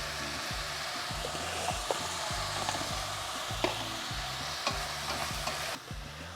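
Carrot and codfish sautéing in a pan, a steady sizzle and frying hiss with repeated scraping stirs of a utensil at a regular rhythm, close and moderately loud, no talking.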